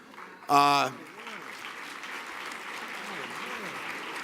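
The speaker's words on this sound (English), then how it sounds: "Give him a nice round of applause" An awards gala audience applauds LL Cool J. A short bright tonal sting sounds first, then moderate, diffuse crowd clapping swells and carries on steadily.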